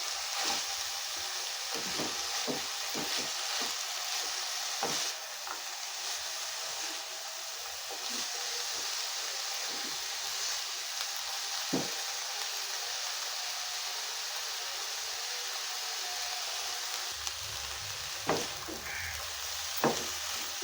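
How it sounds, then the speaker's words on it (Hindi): Chicken filling frying in a pan for a crunchy finish, a steady hissing sizzle that fills the whole stretch, with occasional soft taps and scrapes of stirring, close and even with no talking. "अच्छी तरह हमने इसे मिक्स करना है और पकाना है इसे कि थोड़ा सा क्रंची सा रहे।"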